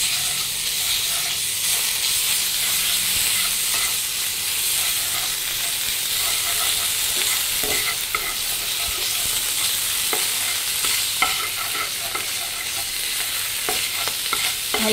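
Potatoes stirred in a frying pan while making kancha amer chop, a loud, steady close sizzle of frying food with a scraping of the spoon against the pan running throughout.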